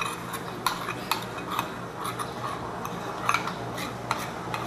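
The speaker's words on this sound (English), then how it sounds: "Vince is mixing the sweetener and the jelly powder together" Sweetener and jelly powder stirred together in a pot, a steady soft scraping swirl broken by light clinks of a utensil against the metal side, close and fairly quiet.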